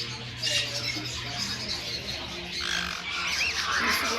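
Several birds squawk and chatter in an aviary at Birds N Paradise in Menifee, California, with harsh calls rising over a busy background and a voice talking faintly underneath.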